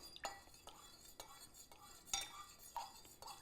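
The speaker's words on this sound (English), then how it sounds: "take a spoon and we're just gonna give it a light mix" A spoon lightly stirs bacon fat into an Old Fashioned cocktail, giving quiet, rhythmic clinks and scrapes against the glass, about one every half second, close and soft.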